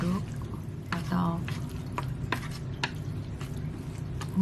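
Samyang instant noodles being stirred in a bowl: soft, wet squelches and light scrapes and clicks at an irregular pace, close by and fairly quiet.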